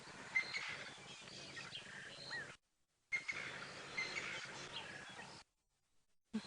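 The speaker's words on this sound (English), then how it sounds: "Birds chirping away." Birds chirp and tweet faintly at sunrise in the African bush during a live safari drive, scattered calls over a soft outdoor hiss, broken by two short gaps of silence.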